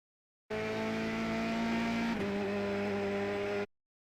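Race car engine from iRacing at Road Atlanta drones steadily at high revs for about three seconds, a brief dip midway as the note drops, then stops abruptly; no voices.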